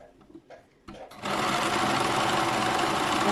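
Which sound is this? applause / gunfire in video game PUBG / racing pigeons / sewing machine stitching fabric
sewing machine stitching fabric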